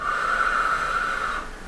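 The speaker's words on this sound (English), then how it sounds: "And blow it out." One long, deep breath blown out steadily during a breathing exercise for recovery from illness, close and clear for about a second and a half before fading, with no talking.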